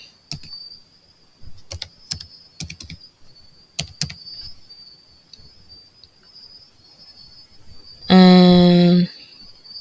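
A mobile money number typed on a computer keyboard, several separate bursts of key taps against a quiet background with a steady high insect-like whine, ending in a brief loud electronic tone.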